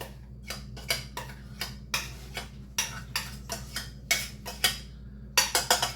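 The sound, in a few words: mixing peas and carrots into a rice and chicken casserole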